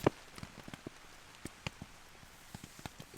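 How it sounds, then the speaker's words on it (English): Heavy rain drumming on a tent at night during a camping trip, irregular nearby drop impacts knocking on the fabric above a low hiss, quiet and without speech. "It's been raining quite a lot."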